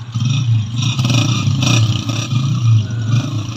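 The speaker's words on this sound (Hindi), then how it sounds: "ये स्टार्ट हो गया है" A 2023 Honda 125 motorcycle engine runs steadily up close, a loud, even mid-pitched putter with slight rises in revs and some mechanical clatter, with no one talking.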